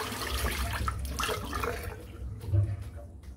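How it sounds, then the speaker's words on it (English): Water runs from a tap as a shaving brush is rinsed under it, a steady close splashing wash that swells briefly near the end. "rinsing the brush out."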